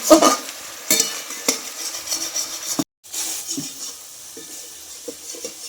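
A spice mixture fries in a pan while being stirred for a home-cooked egg and potato curry. There is steady sizzling with scraping stirs and occasional clinks of a utensil against the pan, plus a brief silent gap midway.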